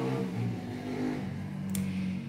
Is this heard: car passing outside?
yes